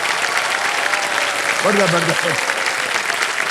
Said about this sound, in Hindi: तालियां बज